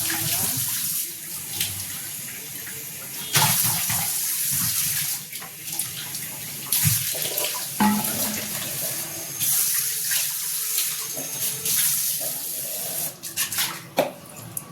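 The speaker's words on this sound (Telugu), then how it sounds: "గిన్నెలు తోమటం అయిపోయింది" Dishes being scrubbed and rinsed under a running kitchen tap, a steady rushing of water interrupted by clinks and clatter of utensils, close and continuous with no talking.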